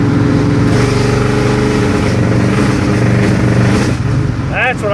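A 1985 small-block Chevy 350 V8 with a hesitation problem runs loud and close in a steady, rough drone, then dips and falters briefly near the end.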